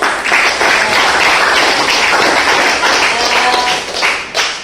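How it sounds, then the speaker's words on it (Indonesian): Close, lively applause from a group at a school teachers' discussion session, many hands clapping in a loud, sustained, slightly uneven patter that swells briefly near the end. "Tepuk tangan untuk semuanya"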